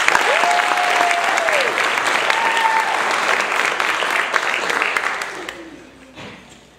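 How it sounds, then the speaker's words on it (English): Audience applause fills the hall after a school orchestra concert by Mac Williams Middle School and Cape Fear High School, a dense, steady clatter of many hands that tapers off near the end, with a faint sustained tone beneath. "he deserves a round of applause for that"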